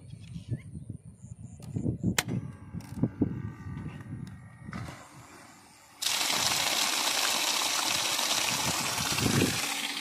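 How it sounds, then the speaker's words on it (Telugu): A few clicks and handling knocks, then an agricultural water pump motor on a newly fitted starter box starts abruptly and water gushes in a steady loud rush. "ఇప్పుడు మనం మోటార్ అయితే ఆన్ చేసి చూద్దాము."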